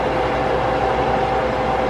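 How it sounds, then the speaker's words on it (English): Steady, broadband whirring hum of a running fan, constant and fairly loud throughout, with no breaks or voices. "sorry about the fan"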